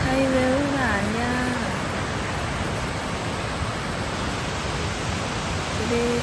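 A waterfall in Norway gives a dense, steady roaring rush of falling water that fills the clip without a break, with a voice talking faintly under it at the start and end.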